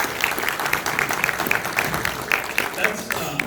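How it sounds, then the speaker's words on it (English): Audience at a PAX South 2020 convention panel claps steadily in a dense, continuous round of applause, close and moderately loud, with some voices under it. "give yourselves a round of applause"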